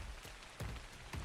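Rain in the video game ARK falls as a soft continuous patter, faint and steady, with a few slightly louder drops or thuds standing out.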